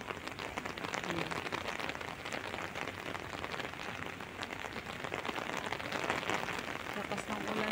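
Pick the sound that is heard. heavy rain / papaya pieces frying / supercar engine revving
heavy rain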